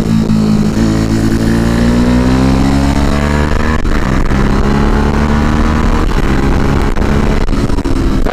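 A Ducati motorcycle accelerates hard along a road, loud and close, its engine note climbing steadily through the revs with brief dips at gear changes.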